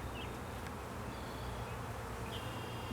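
Honey bees buzz around an open wooden hive frame during an apiary inspection. The drone is dense and steady and stays close throughout, with a few individual bees passing nearer.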